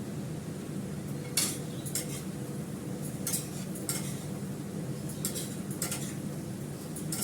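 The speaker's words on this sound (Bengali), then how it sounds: "এবার দেখো ভালো করে মশলাটা কষিয়ে নিচ্ছে এর মধ্যে।" Spice paste being stir-fried in a pan, giving a steady close sizzle with a few sharp scraping clinks of a spoon against the metal pan at intervals.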